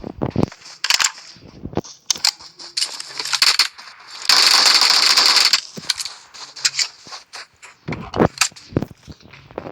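Gunfire in a video game, sharp bursts of single shots and short rapid volleys with one sustained stretch of firing in the middle, separated by brief quiet gaps, and no talk.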